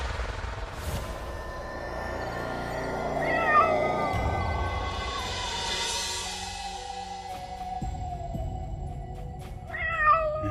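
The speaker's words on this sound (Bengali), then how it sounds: "হঠাৎ শুনতে পেল বিড়ালের ডাক" A cat in an animated night-time story meows in drawn-out, wavering cries: one long rising and falling call in the first half, then a second, shorter meow near the end, heard over quiet background sound.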